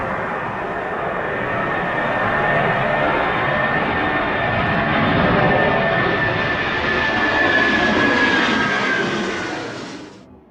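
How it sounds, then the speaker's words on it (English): A British Airways Boeing 747-400 jet takes off in a strong crosswind, its engines a loud, steady broadband roar with a high whine that holds for about ten seconds before easing off. "This majestic British Airways Boeing 747-400 expertly angles into a powerful crosswind during takeoff"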